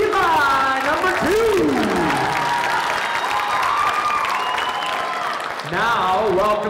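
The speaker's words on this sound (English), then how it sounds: "Give a round of applause for Eva" Crowd at a school talent show applauds and cheers for a middle-school contestant, a steady wash of clapping with shouts and whoops from young voices, loud and continuous for several seconds.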